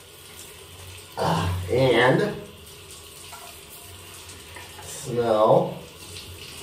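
A hospital sink tap runs steadily while someone washes up, a constant close hiss of water that lasts throughout, with a person speaking over it twice.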